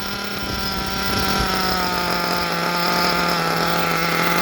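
A nitro model engine runs steadily during break-in, a loud, continuous high-pitched buzzing whine that holds at a constant pitch throughout.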